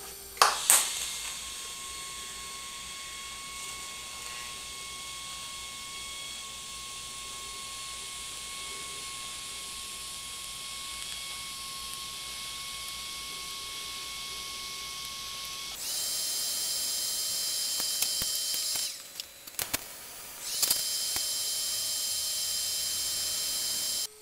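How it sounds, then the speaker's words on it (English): A steel bracket is welded onto the driver's side of a vehicle, a steady close hiss and buzz that runs unbroken, then shifts to a harsher, louder crackle with short gaps toward the end, with no talk. "time to weld this one up"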